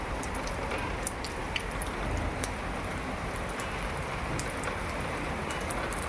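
Steady rain falls at a Kerala family home, a constant, even wash of drops on surfaces with occasional sharper patters, moderately loud and unbroken, no voices present.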